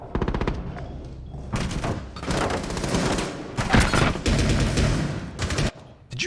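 Rapid bursts of Vector gunfire in a video game, loud and close, with dense repeated shots and impacts running through the whole stretch, briefly dropping out near the end.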